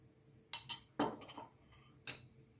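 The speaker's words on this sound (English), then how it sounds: "In goes fox nuts" Dry fox nuts (makhana) tipped into a kitchen pan, with a few light clattering clinks and rattles in two short clusters, close and fairly quiet, with no talking.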